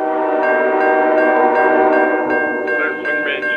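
CN locomotive 2220 passes at Severn Bridge on a December day, a steady loud rumble of engine and rolling cars with sustained horn-like tones throughout and no voices.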